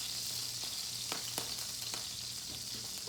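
A steak sizzles steadily in a hot pan, a close, continuous hiss and crackle with a few sharper pops and spits over three seconds.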